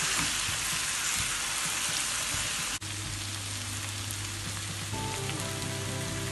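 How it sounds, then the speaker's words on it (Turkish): Chopped tomatoes and carrots sizzle steadily in a hot pan, a dense crackling hiss with a brief interruption partway through and a faint low hum beneath. "Şimdi içerisine 3 tane orta boy doğramış olduğum domateslerimizi ekleyip pişirmeye devam ediyoruz."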